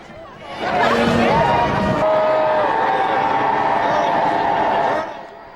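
A large parade crowd lines a city street on Turkey Day, a broad wash of babble and cheering that swells in, holds steady for several seconds, then fades.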